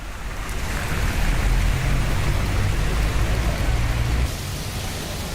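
Heavy monsoon rain pours steadily in Mumbai, a dense, loud wash of noise with a low rumble underneath that eases slightly near the end, with no voices.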